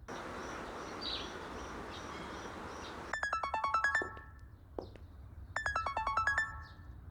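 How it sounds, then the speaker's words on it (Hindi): A phone rings with an incoming call, playing two repeated bursts of a bright electronic ringtone after a stretch of steady background hiss. "अब ये मक्कार औरत मुझे फिर से फोन कर रही है"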